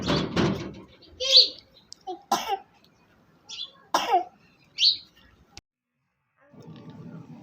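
A boy with a cough and slight fever coughs several times in short, scattered bursts at home, close and fairly loud, with someone speaking between the coughs.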